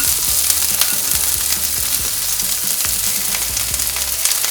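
Carrots, beans and peas with curry leaves sizzle on low flame for masala oats. The frying crackles and hisses continuously and closely, with occasional stirring scrapes and no voices.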